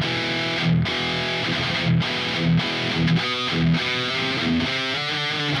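An electric guitar played through a Quad Cortex heavy distortion preset chugs out thick, saturated palm-muted riffs with punchy low accents, loud and continuous throughout.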